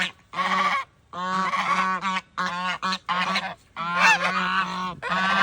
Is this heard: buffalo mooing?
no